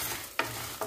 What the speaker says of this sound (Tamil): அடுத்தது நான் மிளகாவும் கல் உப்பு சேர்த்து வறுத்துக்கலாம்.